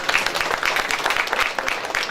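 An audience applauds young artists with limited physical abilities at an art exhibition, a dense, steady burst of clapping from many hands, loud and continuous throughout.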